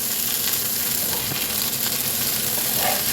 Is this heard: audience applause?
no